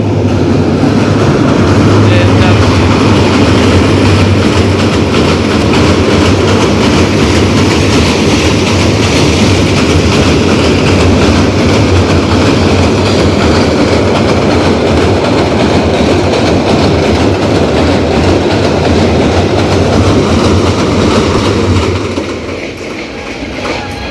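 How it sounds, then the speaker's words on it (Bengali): A train rumbles past close by in Narsingdi, Bangladesh, a loud steady roar with rhythmic rattling of wheels that holds for most of the clip, then fades at the end. "ট্রেন গেল"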